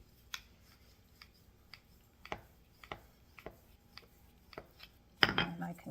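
Soft, scattered taps and clicks of a cutter pressing shapes into rolled homemade playdough on a work surface, several light strikes spaced irregularly, ending with a louder cluster of scraping contact.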